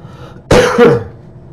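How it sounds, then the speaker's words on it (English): A single harsh cough with some throat clearing, close and loud, breaking an otherwise quiet moment. "I don't know why I got a cough all of a sudden"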